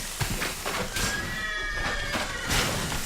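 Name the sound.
horse neighing in a video game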